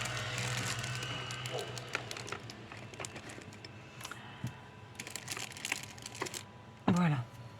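Paper for a decorative album page is folded and its creases pressed flat with a bone folder, making close crinkling, scraping and tapping sounds in uneven strokes, with a brief louder rustle near the end.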